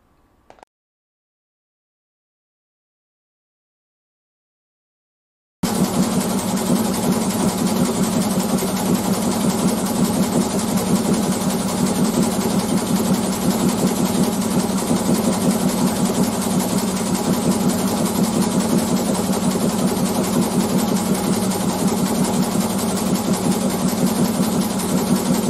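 An old two-cylinder Rubb 50 hp engine runs aboard a boat in Arnafjord. After several seconds of silence, it starts into a steady, rhythmic, chugging drone that holds evenly to the end.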